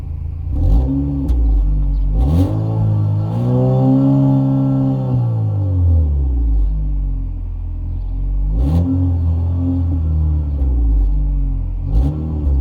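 A 2024 Chevy Malibu LT's 1.5-litre turbo four-cylinder revs close by, with one long rise and fall and several short blips over a steady idle, no talking.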